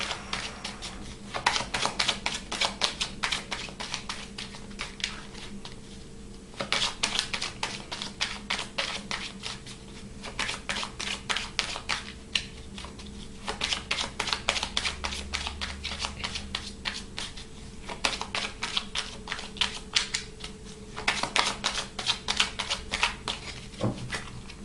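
Tarot cards being shuffled by hand, a long run of rapid, dry riffling and flicking bursts, close and steady, broken by short pauses between shuffles, with no talking.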